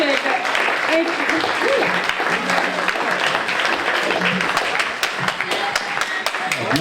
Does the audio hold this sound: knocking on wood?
no